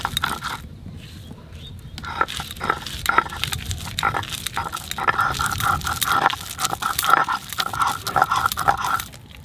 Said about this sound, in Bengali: এবার এর ভিতরে কচুর পাতা দিয়ে বেটে নেব।